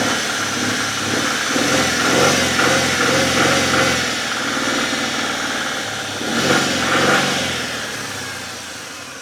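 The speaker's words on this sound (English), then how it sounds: "She definitely doesn't sound like she's running on all 6." A 1996 Mercury Cougar XR7, started again after sitting for years, idles roughly with a misfire, a loud uneven engine chug that swells and falls in two surges, heard alone without talk.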